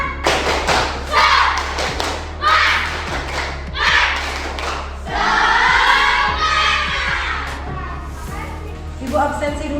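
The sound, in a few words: children's rhythmic spirit clapping in class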